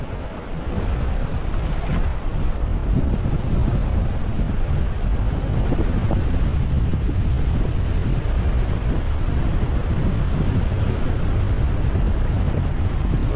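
Strong wind buffeting the microphone beside a river, a loud, constant roaring rush that persists throughout, with a faint wash of water beneath it.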